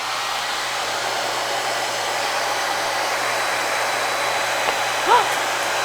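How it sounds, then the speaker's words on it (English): A hairdryer blows a steady, even stream of air through a long tube that lifts a ping pong ball, its whirring hiss constant from start to finish, with a short faint squeak near the end. "I'm going to put the hairdryer on this end, blow that air"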